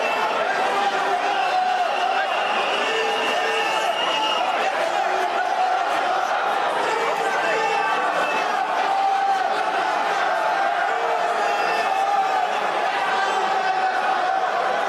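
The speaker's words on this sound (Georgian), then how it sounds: "ქრისტე აღსდგა, ისმოდა დღეს აღდგომის ტაძარში შეძახილები ქართულ ენაზე." Georgian pilgrims at the Holy Fire ceremony in Jerusalem's Church of the Holy Sepulchre shout "Christ is risen" in Georgian, a dense, continuous roar of crowd voices and cheering that fills the whole stretch at steady loudness.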